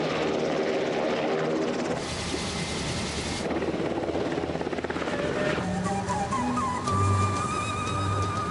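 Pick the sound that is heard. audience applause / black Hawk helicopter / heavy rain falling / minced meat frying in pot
black Hawk helicopter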